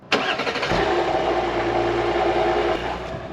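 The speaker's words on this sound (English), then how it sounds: "This is a cold startup on a 2022 Audi Q8." A 2022 Audi Q8 cold-starts with a sharp starter catch and burst, then settles into a loud, steady fast idle that holds close and alone, easing slightly near the end.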